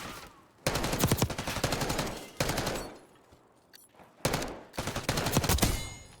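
Black Ops 6 gunfight in ranked play: loud bursts of rapid automatic gunfire come in three or four separate volleys, with short pauses between them.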